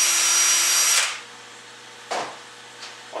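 A power tool whines steadily for about a second while polishing the valve bore of a Honda transmission, then cuts off, followed by two brief metallic scrapes.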